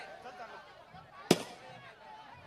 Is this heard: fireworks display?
yes